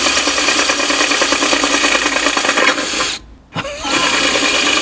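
A diamond fused tile bit drills through marble or porcelain tile, giving a loud, steady grinding whine that cuts out briefly near the end and then resumes.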